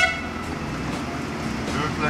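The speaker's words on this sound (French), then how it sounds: "je klaxonne parce qu'il y a toujours une personne à proximité." A rail maintenance vehicle sounds a sustained, steady horn inside a railway tunnel, loud and close over engine rumble, with an echoing tone.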